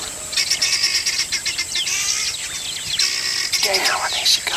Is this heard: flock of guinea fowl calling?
yes